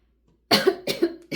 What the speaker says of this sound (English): I don't know why I'm coughing